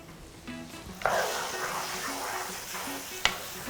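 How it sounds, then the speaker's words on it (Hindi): Potatoes sautéing in mango puree in a pan, a soft sizzle swelling after a second as a spoon stirs through the thick mixture, with a sharp clink of the utensil against the pan near the end. "अब इसे 5 मिनट तक हमें भूनना है ताकि जो आम है वो बिल्कुल पक जाए"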